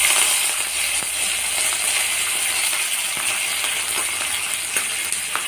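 Curry leaves sizzle steadily in hot oil in a pan over a medium flame, a dense, even hiss with occasional faint clicks and no talking.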